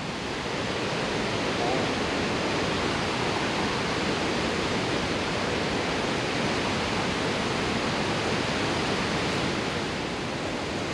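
Cumberland Falls in Kentucky roars as a waterfall in a constant, dense, loud rush that holds steady throughout, with no other sounds standing out.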